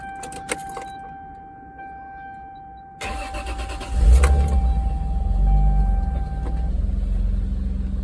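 A Toyota Supra MKIV with its 2JZ engine cranks and fires up from a cold start, then settles into a steady, fairly loud low idle after a few quiet electronic tones and clicks.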